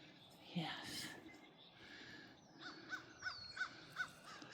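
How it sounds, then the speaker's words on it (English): Crows cawing outdoors under an open sky, a series of rough, evenly spaced calls from a moderate distance, with faint quiet speech at the start. "crows up there, the beautiful sky"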